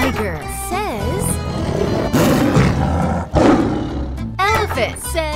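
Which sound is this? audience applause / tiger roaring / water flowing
tiger roaring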